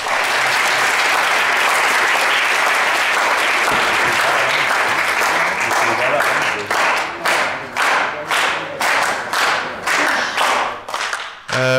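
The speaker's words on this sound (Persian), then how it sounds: "تشویقشون بفرمایید." An audience claps at a talk on privacy protection with Tor, a dense loud round of applause that holds steady, then breaks into a slower thinning run of distinct claps before it fades out.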